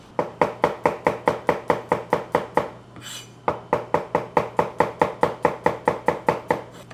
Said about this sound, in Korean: 마늘을 이제 슬라이스를 칠 거예요